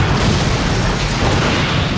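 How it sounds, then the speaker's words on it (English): An explosion effect from the Hulk: Ultimate Destruction video game gives a dense, loud, rumbling roar with a continuous low-heavy blast of noise across two seconds, and nobody speaks. "When you hear an explosion, that might be a layer of fire,"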